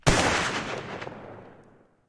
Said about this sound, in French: Tu entends plusieurs coups de feu.